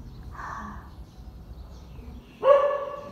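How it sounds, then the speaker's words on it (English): Stray dogs at a pagoda, with a short bark or yelp early on and a louder, sharper bark burst near the end against a quiet outdoor background. "Just hear a little bit barking"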